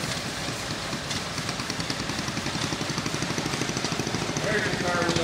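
An early four-wheel garden tractor engine runs at an outdoor steam-era show with a fast, even chugging beat, close and steady, surrounded by general show-ground noise.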